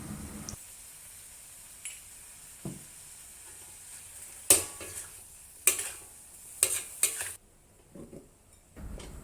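Thai drunken noodles stir-fried in a wok over high heat give a soft, steady sizzle, broken by several sharp clanks and scrapes of a utensil against the pan, close and fairly quiet.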